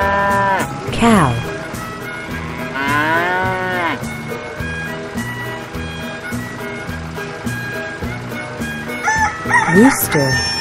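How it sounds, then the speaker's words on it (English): A rooster crows twice, once near the start and again near the end, over continuous rhythmic background music, with a cow's low moo heard in between. "Rooster."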